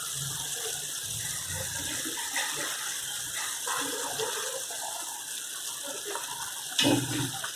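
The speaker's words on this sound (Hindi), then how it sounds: "अब आप देख सकते हैं कि हमारा पानी बॉईल हो गया है।" Water boiling on a high flame makes a steady, bubbling, rushing hiss close by with no talk, and a brief louder splash near the end.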